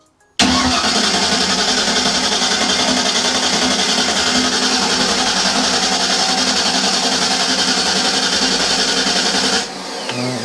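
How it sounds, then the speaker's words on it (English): A Ford SBF 302 small-block V8 cranks over on its starter without fuel, a loud, steady, unbroken whirring churn that runs for about nine seconds before cutting off abruptly. "Let's crank it for a bit to get oil pressure"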